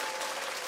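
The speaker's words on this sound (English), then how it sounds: "We got to clap Mike out" A brief burst of applause from a small group of people clapping, dense and even for under a second.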